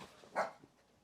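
One short dog bark sounds from slightly off, alone in a quiet room.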